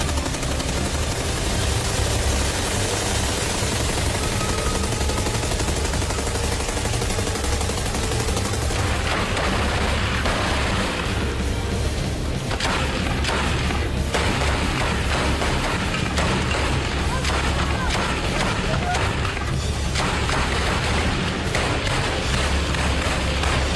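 A light machine gun firing, a dense sustained clatter of rapid shots that runs continuously at high level, the texture shifting partway through as bursts change, with no voices heard.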